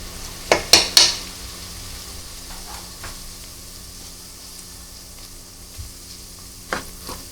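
Sliced onion with crushed garlic and ginger frying in a pan for chicken liver masala, a steady sizzle under a few sharp spoon clanks against the metal early on, then softer occasional stirring scrapes.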